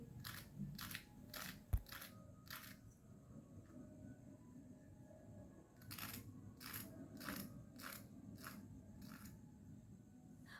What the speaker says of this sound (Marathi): तुम्हाला मी टोस्टचा आवाज ऐकवते.